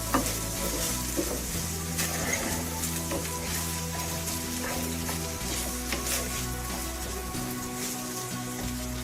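Rice with chicken and mushroom being stirred in a cooking pot: continuous, fairly loud sizzling and scraping stirs, with a low steady hum underneath.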